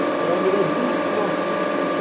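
A metal lathe turns soft aluminium at a slow, gentle speed, giving a steady, close whirring machine hum that holds at an even level throughout.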